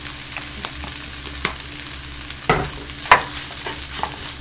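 Kimchi fried rice stir-fried in an oiled pan, a low steady sizzle broken by a few sharp clacks and scrapes of the spatula against the pan, close by with no talk.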